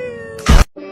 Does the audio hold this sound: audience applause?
no